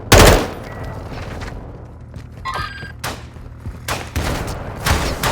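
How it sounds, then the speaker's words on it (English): Gunfire in the video game Call of Duty Modern Warfare II, with loud bursts of shots and heavy thuds at irregular intervals, a strong blast at the start and repeated volleys throughout. "You are taking effective fire."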